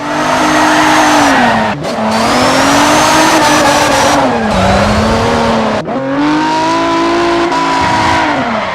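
A DeLorean DMC-12 is driven hard, engine droning loudly as it revs and settles through several gear changes, with tires squealing across the run.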